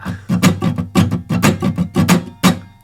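Guitar strumming the Bo Diddley beat, a syncopated pattern of accented chord hits with muted scratches between them, played close and clear with no voice.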